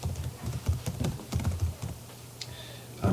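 Rapid, close keystrokes on a computer keyboard as a spreadsheet formula is typed, a steady run of clicks for about two seconds before tapering off.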